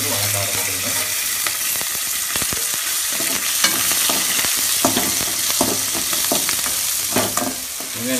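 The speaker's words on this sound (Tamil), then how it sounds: "நீங்கள் அதுக்கு உடனே வெங்காயத்தை போட்டு சின்ன வெங்காயத்தை போட்டு வணக்க ஆரம்பிக்கணும்." Small onions (shallots) fry with mustard seeds and curry leaves in hot oil for a Tamil intestine (kudal varuval) dish: a steady, close sizzle with crackling pops and occasional stirring scrapes, no voices.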